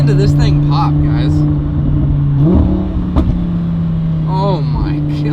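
Lamborghini fitted with a new exhaust, revving and popping under load on the road; a loud, steady engine drone rises and falls with a sharp crackle near the middle, while people talk over it.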